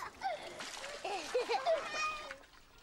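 Water splashes as it is poured over a Teletubby's head, a few short wet splatters mixed with high, childlike voices talking.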